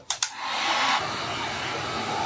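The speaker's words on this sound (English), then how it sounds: "let me dry this with our heat tool" A heat tool starts up after two quick clicks and blows a steady whooshing hum over fresh paint on wooden witch shoes. The sound is loud at first, then eases slightly and keeps going.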